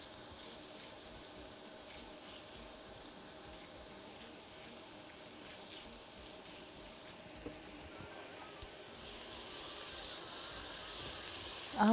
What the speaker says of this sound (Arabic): نقلب كده بقى الكبده، نقلبها كده مع الكلاوي.